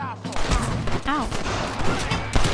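Gunfire in the video game Red Dead Redemption crackles in rapid, overlapping bursts with loud close shots, and a brief voice-like cry rises partway through.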